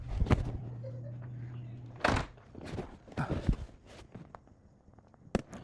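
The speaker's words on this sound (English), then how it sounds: "Let me close my door." A room door is pushed shut at home, giving a firm thunk near the start followed by several softer bumps and shuffling footsteps close by.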